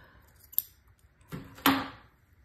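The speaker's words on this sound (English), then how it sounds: "I took some ribbon that was left over from doing this part, and I cut it to about" Scissors snip through leftover ribbon for a patriotic star wreath, a few quiet close clicks followed by one sharper crisp cut, with no talk.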